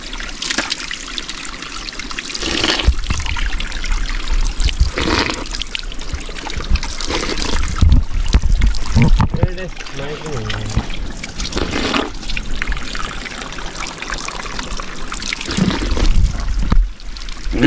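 Cold Himalayan mountain stream water trickles and splashes nearby in a steady rush, while people talk over it.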